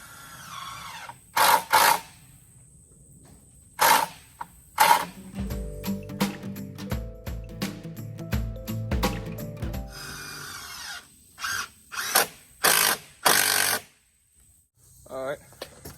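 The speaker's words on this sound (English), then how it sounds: "Put a few screws in it here" A power drill drives screws into pallet wood for a cheap chicken coop outdoors, with several short whirring bursts at close range, one longer run of rapid mechanical chatter, and a person talking in between.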